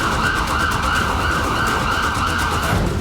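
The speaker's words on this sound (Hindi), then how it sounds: "सड़कों पर दौड़ती एम्बुलेंस" A loud ambulance siren holds a steady, piercing tone over heavy traffic rumble on a city street in Iran, continuing without pause.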